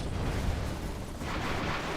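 Rumbling explosion in a real-time strategy game, a broad, continuous low boom and crackle lasting about two seconds at steady loudness.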